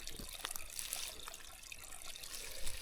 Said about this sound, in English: Good to see a bit of water coming out of this little gully here.